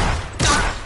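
A single gunshot burst rings out in the Fortnite video game, a loud sudden blast partway through that fades over a short tail, with no talk over it.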